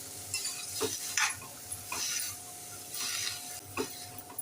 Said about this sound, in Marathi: हे भाज्या मी दोन तीन मिनिट चांगल्या परतून घेणार